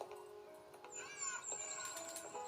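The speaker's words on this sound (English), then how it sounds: "A Lamore bird!" A Lamore bird calls in a video game: a thin, high whistling chirp with short rising and falling sweeps, fairly faint over soft game ambience, repeated a few times across a couple of seconds.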